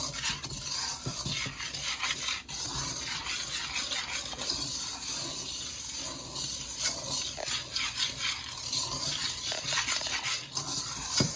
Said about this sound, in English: I'm just gonna stir it and let it incorporate in